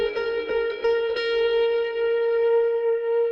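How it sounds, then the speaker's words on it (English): A bright, effects-heavy guitar strumming-pattern sample in FL Studio rings out with a few quick strums at the start, then sustains and slowly fades with echoing tails. "another guitar strumming pattern, just something to layer the guitars"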